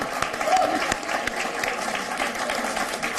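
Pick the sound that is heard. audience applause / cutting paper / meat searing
audience applause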